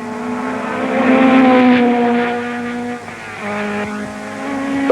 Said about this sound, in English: Moss chases Surtees into Paddock Bend